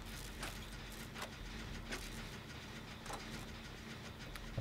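Generator being repaired in the Dead by Daylight video game, a low, steady mechanical engine hum with faint intermittent clicks and clanks, quiet and continuous with no talk.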